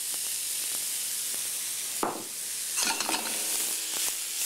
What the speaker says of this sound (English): just throw your mushroom in there like so